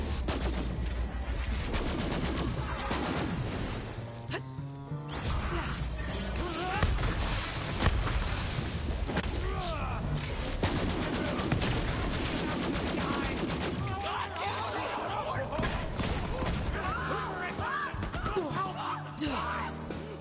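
Dense, continuous gunfire and explosions from the video game Borderlands 3 run through the whole stretch, loud and layered, with a voice occasionally talking over the barrage.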